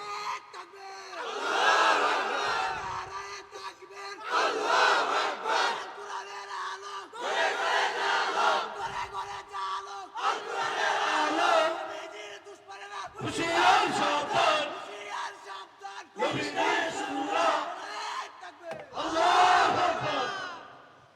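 A large crowd at a Bengali Islamic sermon loudly shouts takbir in unison, Allahu Akbar, in about six repeated surging chants with brief gaps between them.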